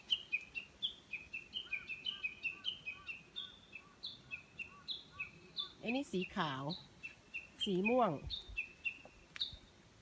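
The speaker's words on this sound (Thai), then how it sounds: "ดูเสียงนกร้อง" Birds chirp steadily in quick repeated tweets at a moderate distance in a Japanese mountain valley hydrangea garden, while someone speaks briefly over them partway through.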